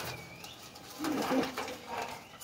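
Pet pigeons coo in low, throaty bursts as they are handled, with soft rustling and faint background noise between the calls.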